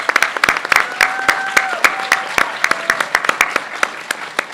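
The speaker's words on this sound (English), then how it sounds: "Another broad round of applause for our finalists." Audience applause for moot court finalists at a competition, a smaller crowd's distinct, crisp claps in a fast irregular patter over a few seconds, with a faint voice underneath.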